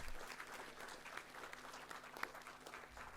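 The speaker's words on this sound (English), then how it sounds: "Round of applause, please." An audience at a Year 11 school awards ceremony claps steadily for a student's award, a continuous, fairly distant crackle of many hands lasting about three seconds.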